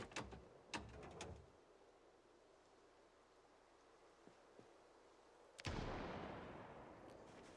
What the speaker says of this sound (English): Ambient gunshot scared the shit out of me.